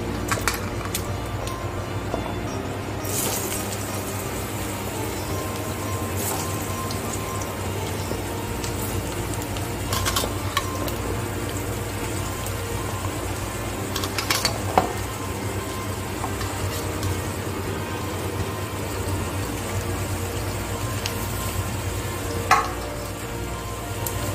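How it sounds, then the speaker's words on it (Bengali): Diced potatoes fry in hot oil in a Bengali vegetarian potato curry, giving a steady, close sizzle throughout with a few brief clatters of stirring and no talk. "এবার আমি ডাইস করে কাটা আলুগুলো ভাজতে দিচ্ছি।"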